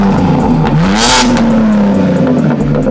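A BMW G87 M2 with titanium intakes, Callus sound pipes, a single mid pipe and a resonated exhaust revving close up, the engine note rising sharply and then holding at a loud raspy drone before easing off.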